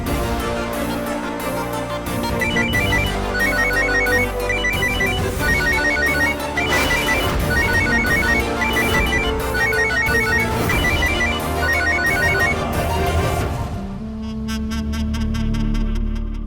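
A phone ringtone plays a bright, repeating electronic melody steadily for several seconds, then cuts off abruptly.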